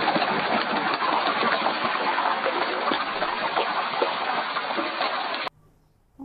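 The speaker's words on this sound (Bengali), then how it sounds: "তেলটা গরম হয়ে গেলে আমরা একে একে মাছগুলো ছেড়ে দিলাম।" Hilsa pieces frying in hot mustard oil in a pan, a steady loud crackling sizzle that runs unbroken for several seconds and then cuts off abruptly near the end.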